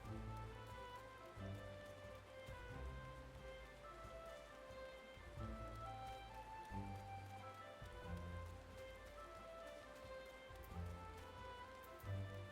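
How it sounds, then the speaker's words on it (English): Rain falls steadily in a Final Fantasy game, a constant soft patter across the scene with a low droning game background underneath. "They're all standing just in the rain"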